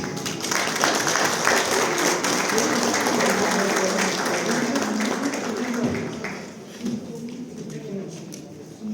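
An audience gives sustained, dense applause after a song for about six seconds, then the clapping thins out and stops, and a voice is heard.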